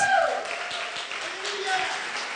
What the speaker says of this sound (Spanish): denle un gran aplauso a Jesús